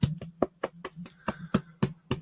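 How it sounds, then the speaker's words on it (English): A big, fat dog being patted by hand: about nine soft, fleshy slaps in a steady rhythm, close and fairly quiet, with no voices. "this is the sound of a blubber dog being patted."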